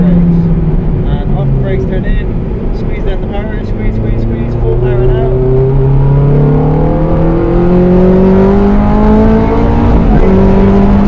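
An Abarth 500 accelerates hard around Mondello Park race track, its engine note climbing steadily in pitch through the gears, loud and continuous from inside the car while a driver talks over it.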